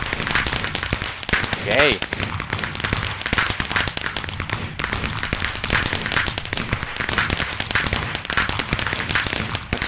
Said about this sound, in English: Oh, fireworks stop.